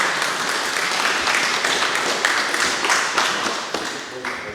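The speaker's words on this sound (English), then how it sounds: "clap for that one" At an electric vehicle association meeting, a room audience applauds, with dense steady clapping running the whole few seconds and easing slightly at the end.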